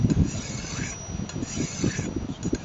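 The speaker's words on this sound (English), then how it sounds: "It'll probably take 15 minutes total, sharpening on both sides to really start to slice paper." A file scrapes along the edge of a 12-inch Tramontina bush machete, sharpening the blade in uneven, close rasping strokes that blend into one another.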